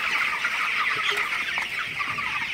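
A dense flock of 21-day-old broiler chickens on a poultry farm at night makes continuous overlapping clucks and chatter close to the listener, with no talking.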